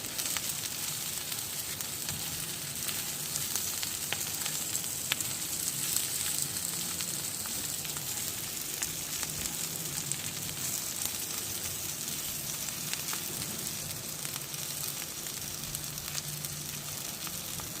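Garlic shrimp roasting until the shells turn crisp, giving a soft, even crackle that holds steady throughout at low volume, with no talking.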